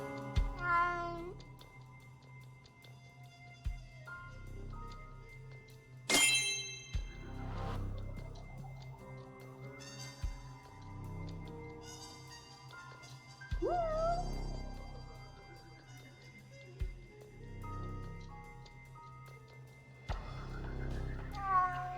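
A cat meows repeatedly in the Judgment video game, with several drawn-out, pitch-bending cries spaced a few seconds apart over quiet background music and game sounds.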